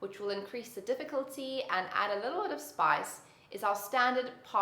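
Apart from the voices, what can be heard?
No everyday noise stands out behind the speech.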